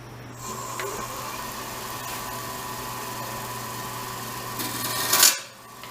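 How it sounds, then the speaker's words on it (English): A carbide lathe tool cuts into wood spinning on a lathe while turning a tea light holder. The cut is a steady scraping hum over the motor drone, rising to a brief louder scrape near the end before it stops. "break out the carbide, and try to get what shape I want in here"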